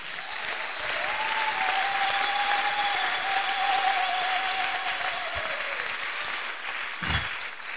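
An audience applauds with sustained, dense clapping that swells and holds for several seconds, with a faint whistle or cheer drifting through before it tapers off.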